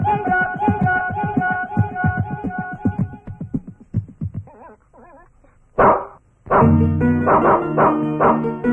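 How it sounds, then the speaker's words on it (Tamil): Stray dog barking repeatedly in a rapid series of loud, close barks with a few yips and whimpers, broken by a brief lull, then more sharp barking over movie background music. "எங்க வீட்டு காம்பவுண்டுக்குள்ள ஒரு தெருநாய் வந்து ரொம்ப தொல்லை பண்ணுது"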